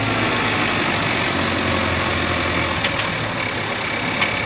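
A car engine fitted with an aftermarket intake idles and hums steadily with a loud, droning low rumble from close by, heard from inside the cabin, with no talking.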